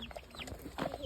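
Baby chickens cluck and peep in quick, high chirps, close by and fairly steady for about a second, with a light rustling background.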